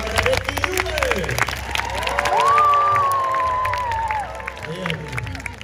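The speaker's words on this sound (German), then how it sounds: "Lasst hören euren Applaus." Crowd at a knight tournament show by a castle cheering and clapping, a loud sustained mix of applause, whoops and children shouting, with one long shrill yell rising above it midway.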